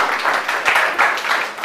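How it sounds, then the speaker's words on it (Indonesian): Classroom of students clapping together, a short burst of brisk, moderately loud applause with uneven rhythmic swells. "Tepuk tangan untuk semuanya ya."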